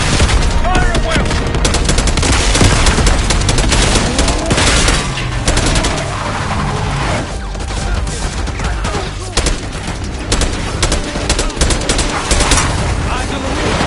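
Heavy, continuous gunfire in a Call of Duty Black Ops 6 firefight, dense overlapping shots and bursts throughout, with voices calling out over the shooting.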